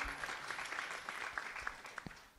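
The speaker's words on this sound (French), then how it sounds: "Vous pouvez l'applaudir, bien sûr." A seated audience at a talk on entrepreneurship applauds a speaker, a steady rattle of many hands with a few sharper individual claps standing out near the end.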